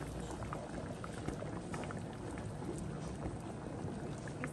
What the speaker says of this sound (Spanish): Tapamos ya ahorita que está hirviendo a fuego alto, le voy a bajar a fuego bajito y se deja cocinar.